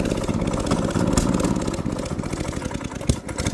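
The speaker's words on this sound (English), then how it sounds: "Oh, oh! Saved it. No. Come on, little go-kart." Small go-kart engine sputtering and chugging unevenly at close range, a steady uneven putter with a brief sharper pop near the end, running alone without talk.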